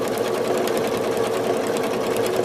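A sewing machine stitching through a quilt runs at a steady, fast mechanical whir with rapid needle ticking, loud and close, alone without speech.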